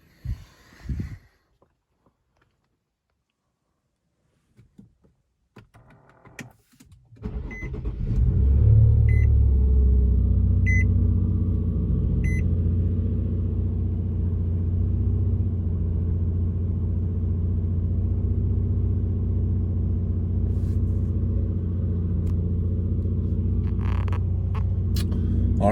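A 2008 Infiniti G35 fitted with a cold air intake cold-starts after a few quiet seconds of faint clicks, catching with a loud burst and settling into a steady, strong high idle rumble that holds throughout, with a few brief beeps early on.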